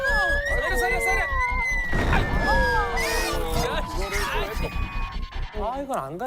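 An emergency vehicle siren wails and sweeps up and down behind a truck in traffic, recorded from a dashcam, while several people talk loudly over it throughout.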